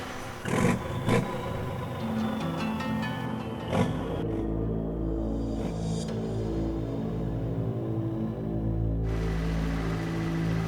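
A truck on a potholed dirt track in Congo rumbles along with a steady engine drone and shifting revs, with loud clanks and rattles from the bumpy ride early on before the engine settles into a continuous hum.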